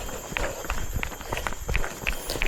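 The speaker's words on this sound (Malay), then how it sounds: "aku dah boleh berlari sikit-sikit." Running footsteps on a trail during a 30 km rainforest race in Merapoh sound as quick, regular footfalls close by. Steady rustling and broadband noise run underneath, with light breathing or voice in the background.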